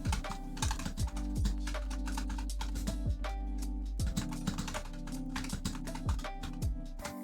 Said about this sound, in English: Okay, I see it picking up my typing sound.